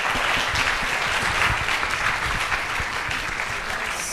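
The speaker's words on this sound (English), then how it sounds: "we can give a round of applause for the panelists" An in-person audience applauds the panelists at the USAPPS 2024 Day 2 event, with dense, loud, steady clapping that fills the whole stretch and is heard alone without talk.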